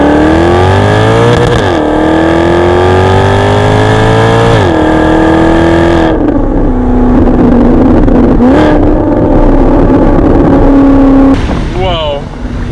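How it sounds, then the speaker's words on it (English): Maserati GranTurismo convertible engine revving hard on the move, its note climbing and falling through several gear changes with brief crackles, loud and close throughout. "And we wanna hear the pops and bangs, the crackles, snap, crackle, pops."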